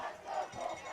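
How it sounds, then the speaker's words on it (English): A crowd at a Colfax high school football game chants and roars steadily for a first down on third and short, a sustained, fairly distant swell of many voices rising and falling. "Colfax crowd calling for a first down here"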